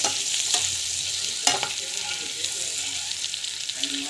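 Unsalted food is sautéed in a pan, giving a continuous close crackling sizzle with a sharp spatula knock near the middle and lighter scraping throughout.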